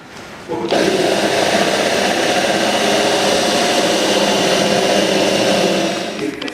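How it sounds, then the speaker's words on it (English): A hole saw bores through-hull openings in a wooden boat hull, a loud steady grinding whine that starts abruptly after a brief quiet lead-in and holds evenly for several seconds before easing off. "switch to a hole saw"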